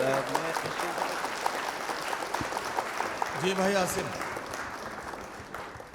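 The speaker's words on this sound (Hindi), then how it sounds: "एक बार अपने लिए तालियां बजा लीजिए" Mushaira crowd at a Kanpur college gives steady applause, a continuous wash of clapping, while someone speaks briefly over it.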